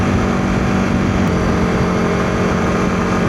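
Honda CRF300L Rally motorcycle riding on a road, a steady, loud engine drone with wind roar filling the whole stretch, no speech and no sharp changes.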